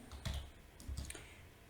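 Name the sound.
typing a Python command on a computer keyboard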